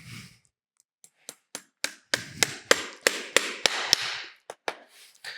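A farrier drives nails into a horseshoe on a flat front hoof, giving a close series of sharp metallic hammer taps that quicken into a steady rhythm, then slow to a few final strikes.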